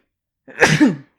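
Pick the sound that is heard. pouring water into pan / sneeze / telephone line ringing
sneeze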